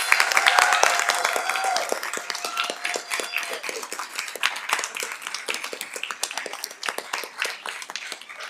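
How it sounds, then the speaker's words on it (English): A crowd at a board of education meeting gives scholars a final round of applause: many hands clap densely at first, then thin into scattered claps toward the end. "let's give one final round of applause to our amazing scholars"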